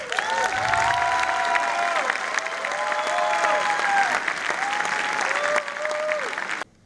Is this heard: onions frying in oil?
no